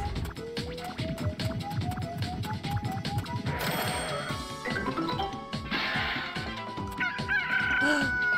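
A rooster crows in the Billy Hatcher game amid busy musical game sounds, with a crash midway and bright chimes near the end, all fairly loud and without talk.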